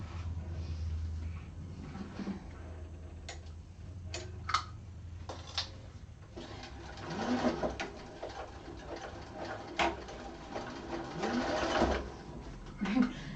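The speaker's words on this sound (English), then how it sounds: "Having my walking foot doing this is kind of hard too because it's not grabbing all my fabric" A sewing machine fitted with a walking foot stitches through layered fabric in uneven bursts of rapid clatter and ticking, heard up close, while someone talks between and over the stitching.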